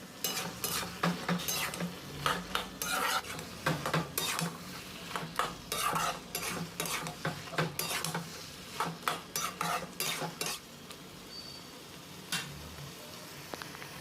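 A spoon stirs aloo palak vegetables in a pan, giving repeated scraping and clattering strokes in a loose rhythm over a low sizzle, close and clear, with no voices.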